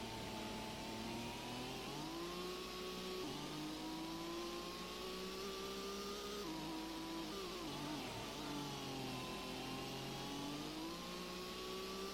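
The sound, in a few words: car engine revving in the Gran Turismo video game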